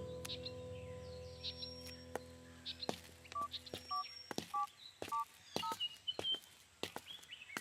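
A phone's keypad tones beep one after another in a quick uneven sequence, preceded by a few sharp clicks, fairly quiet and close.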